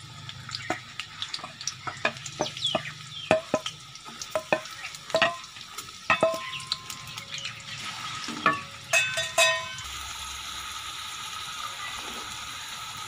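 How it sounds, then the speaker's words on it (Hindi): Onions frying in ghee in a pan, with crackling sizzle and clattering stirring strokes that give way to a steady, close hiss near the end. "सबसे पहले घी में प्याज डाल देने।"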